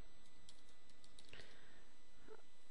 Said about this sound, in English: by typing group in the command line